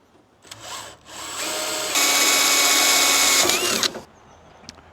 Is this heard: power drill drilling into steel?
yes